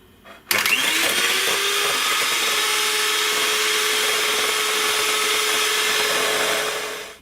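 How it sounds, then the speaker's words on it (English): An electric mixer beats two egg whites toward soft peaks, starting abruptly into a loud, steady high-pitched whirring motor whine that holds constant for several seconds before cutting off at the end. "get 2 egg whites, the ones you've separated from the yolks, and we want to beat this until soft peaks form"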